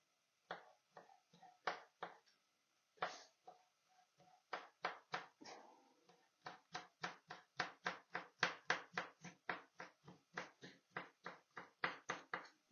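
A knife chops steadily on a cutting board while preparing chicken sauté, crisp close taps in irregular runs, speeding into a quick rhythmic series with short pauses between.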